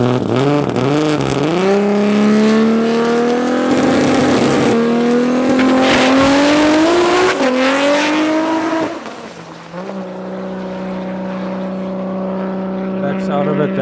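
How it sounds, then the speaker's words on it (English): A Toyota Supra Mark 4 race car at a raceway screams through rising gear-by-gear engine revs, shifting up repeatedly, then backs off to a lower, steadier drone, loud and close. "Give us a beautiful show there in your Mark 4 Supra."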